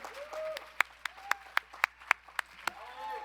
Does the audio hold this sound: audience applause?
yes